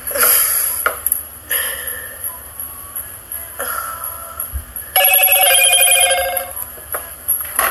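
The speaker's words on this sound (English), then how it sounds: "Loud ass phone." A loud mobile phone ringing indoors during bracelet-making with moonstone beads, its bright tone sounding in repeated bursts.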